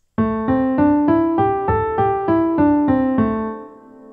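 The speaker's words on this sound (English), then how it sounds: "The second pentatonic scale is the minor pentatonic scale." Single notes of a minor pentatonic scale rise and then fall at an even pace, each tone ringing clearly before the next, the last one fading out.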